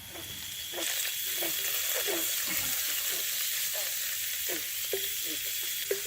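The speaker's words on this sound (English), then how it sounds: "I am sauteing some bacon" Bacon sautés in a pan at an off-grid bush cabin, a constant sizzling hiss with small pops and scraping stirs, moderately quiet and close, with no speech over it.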